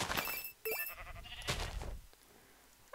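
Sheep in the Minecraft Hexxit modpack bleat in short, close game-sound calls, a couple of bleats with brief gaps, with no talking over them.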